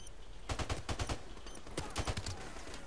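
Gunfire in Call of Duty Remastered during online multiplayer, two short bursts of rapid automatic shots, moderately distant and fairly quiet, separated by a brief pause.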